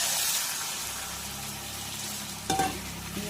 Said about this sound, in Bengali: এইবার দিয়ে দেবো কিছুটা গরম জল